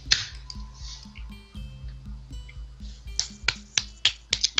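Crisp clap sound effects from the visual novel Katawa Shoujo: a cluster of sharp, close snaps bunches up toward the end over soft, steady background music.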